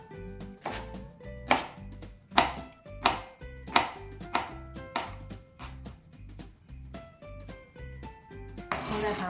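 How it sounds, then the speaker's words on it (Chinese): A knife chops washed, trimmed snow peas on a cutting board with a steady run of close, crisp blade strikes, each ringing briefly, alongside light background music. "拿去洗之后，把它切碎。"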